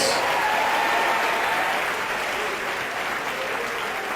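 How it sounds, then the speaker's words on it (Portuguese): A church congregation applauds in sustained, dense clapping that stays loud and steady throughout with no pauses, the sound of many hands together filling the room. "Vamos aplaudir mais ao nosso Deus."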